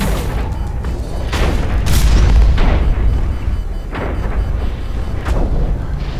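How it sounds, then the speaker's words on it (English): Rocket blasts and booming weapon fire from the mech shooter Hawken come in repeated heavy explosions, several sharp booms spread across the stretch over a constant rumbling background. "he shot a rocket at me"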